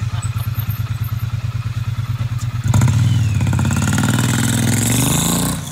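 Triumph Bonneville motorcycle engine idling with a steady throbbing pulse, then revving up hard and holding a loud, rough roar close by.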